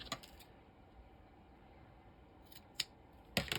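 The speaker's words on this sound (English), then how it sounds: "Trim that off a little bit, and we're going to cut 2 of them the same size." Scissors trimming a paper belly band for a junk journal, a few quick crisp snips at the start and end, faint and close, with quiet room background between them.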